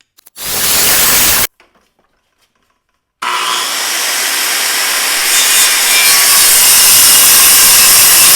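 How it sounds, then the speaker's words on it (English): A circular saw cuts a 2-inch strip from a wood board: a loud whining burst of about a second, a pause, then a long sustained cutting roar that continues to the end. "Once you make your cut, you are just going to have your circular saw sit there until the blade stops spinning."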